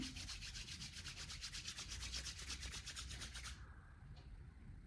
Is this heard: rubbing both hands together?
yes